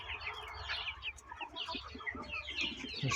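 A flock of chicks with hens in a warm, sunny poultry yard keeps up continuous overlapping high cheeps and soft clucking at moderate volume, with no voices.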